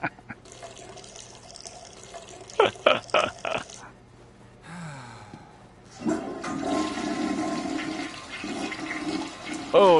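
A toilet flushes in the video game Sleeping Dogs, with gurgling water surges, bubbling pulses and a rushing drain swirl building toward the end, fairly close and without talk.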